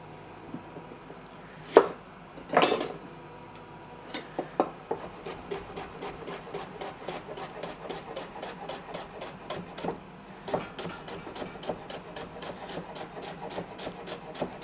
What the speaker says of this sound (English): here I have a leek that I'm going to cut up for things like the pasta